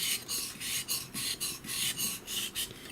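A Japanese santoku blade scrapes rhythmically across a whetstone, about a dozen quick rasping strokes in steady back-and-forth succession, close and fairly quiet.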